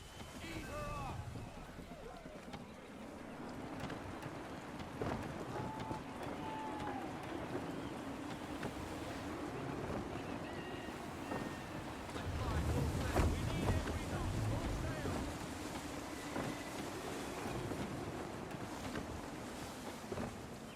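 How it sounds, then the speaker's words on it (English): Gusty wind and rushing water around a sailing ship at sea in Assassin's Creed 3, a steady airy roar with creaks and splashes, faint throughout and rising briefly midway. "Wind looks to be shifting. Stay alert, Connor. Gusty winds can be difficult to manage."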